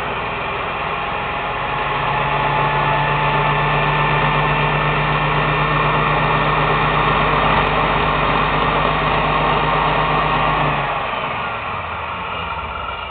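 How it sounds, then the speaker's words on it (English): A Beacon Star 6-inch cabber combo lapidary rock saw runs at slow speed, giving a smooth, steady motor hum and whine that holds for several seconds and then winds down, close by and with no other sounds. "I'm going to turn this on at slow speed. Show you how smooth it runs."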